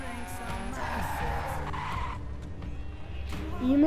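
A Lamborghini Aventador and a GTI racing in The Crew, with tires skidding and squealing over a steady engine drone, ending in a sharp rising screech.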